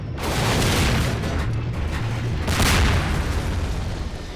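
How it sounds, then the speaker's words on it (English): Explosion in Half-Life 2, a loud, sustained roaring boom with a second swell partway through, heard alone without talk. "Done exploding?"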